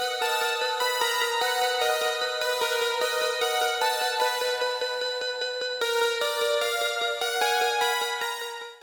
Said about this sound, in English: let's have a listen to what the patches sound like real quick.